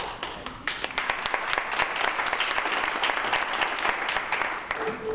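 A conference audience at a digital media summit applauds a panel, many hands clapping in a full, sustained round that fills the whole five seconds at steady loudness.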